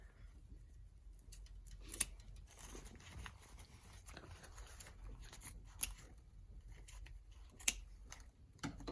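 Scissors trimming the ribbon tails of a bow on a magnolia grapevine wreath, heard as a few quiet, widely spaced snips against a soft background.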